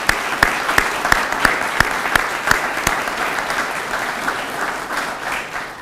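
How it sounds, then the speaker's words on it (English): An audience claps together at a university donation announcement, a dense round of applause with a few sharp, close individual claps that gradually thins out toward the end. "I think they deserve a round of applause."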